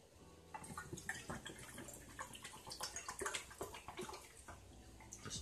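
Water pours steadily into a pot with splashing and trickling, continuous for several seconds, close by with no voices.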